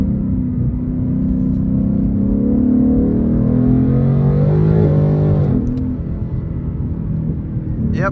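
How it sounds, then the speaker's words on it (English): A tuned 2023 Ford Mustang GT V8 with an automatic gearbox drives steadily with a deep, loud engine drone, then the pitch shifts as it downshifts into second gear, heard from inside the car with faint talk. "So I wonder how some downshifts will be here."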